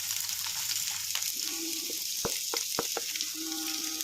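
Onion sizzling in coconut oil with ginger and garlic in a pan: a steady, bright frying hiss with a few sharp clicks and scrapes of stirring, close by.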